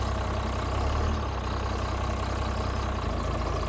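An old, rotting Cummins diesel plow truck engine, recently revived after sitting, runs with a loud, steady low rumble up close and without pause.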